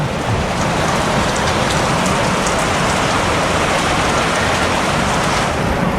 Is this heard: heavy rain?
yes